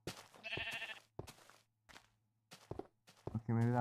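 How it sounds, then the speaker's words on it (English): Sheep bleating in the Minecraft video game, a few short, wavering bleats scattered between quiet gaps, with one louder, fuller bleat at the end over a low steady background hum. "Okay, maybe that was just a sheep."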